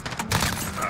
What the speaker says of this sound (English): I laser him with a MP5.